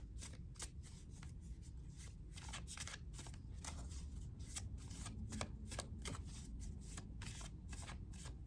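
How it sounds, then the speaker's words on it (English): Tarot cards being shuffled by hand in a quiet room, a steady run of soft riffling flicks and slaps repeating rapidly and close, faint and continuous with no talking. "I'm going to reshuffle these cards here in the tarot"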